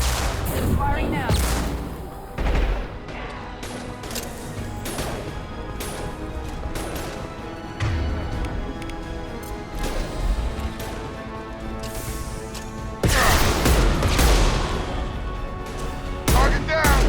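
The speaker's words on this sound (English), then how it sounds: "Firing now." Gunfire in the video game Mass Effect 2 Legendary Edition, repeated loud crashing shots and impacts in bursts over background music, with voices speaking in between.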